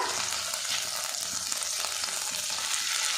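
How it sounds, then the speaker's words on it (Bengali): Tomatoes with garam masala spices frying and being stirred in a hot pan for a soybean dish, giving a steady, close sizzle that runs unbroken throughout with no talking. "টমেটো দিয়ে বেশ কিছুক্ষণ নাড়াচাড়া করে নেব।"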